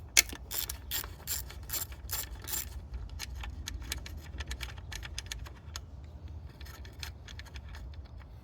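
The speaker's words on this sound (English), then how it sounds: "you can use an 8mm socket on it and it'll come right off" An 8mm socket on a ratchet works the inverted Torx bolts while replacing the glow plug module on a Jeep WK CRD 3.0 diesel, giving dense close clicking bursts at first, then sparser lighter clicks over a low hum.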